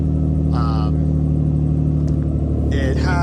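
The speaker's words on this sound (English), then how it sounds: "As you guys can hear, it's got one hell of an exhaust leak." A car with an aftermarket exhaust and an exhaust leak rumbles steadily at close range with a loud, continuous low drone, while a person talks over it.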